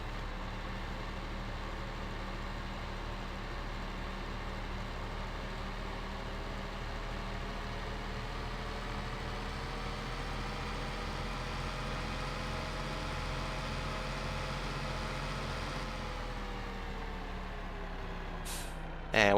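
Truck engine running steadily in Farming Simulator 15, a continuous loud drone with shifting tones, ending in a sharp hiss of air brakes.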